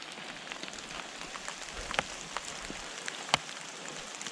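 Rain falling in the Carpathian mountains, a steady soft patter on surfaces with a couple of sharper drops standing out, moderately close and alone.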